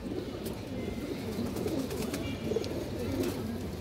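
Low, rolling coos from pigeons kept in a loft, several soft calls spaced out over a constant murmur of background noise.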